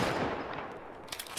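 Rapid shotgun blasts from the Roblox game Jailbreak, a dense burst of loud, close shots with a trailing crackle and no talk over it.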